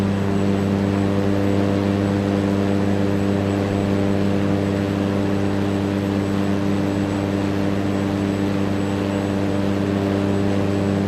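A Cessna propeller airplane engine in Flight Simulator 2024 drones steadily throughout, a constant even hum with strong low harmonics, loud and unbroken.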